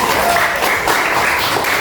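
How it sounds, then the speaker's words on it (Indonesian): Loud, dense applause from a group at a training session, steady clapping filling the whole short moment. "beri tepuk tangan untuk Mas Dias."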